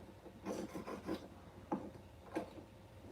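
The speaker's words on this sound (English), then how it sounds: "So you notice I'm polishing" Silver jewelry is hand-polished with a cloth in a few short, soft rubbing strokes, each a brief scratchy swipe with quiet gaps between them.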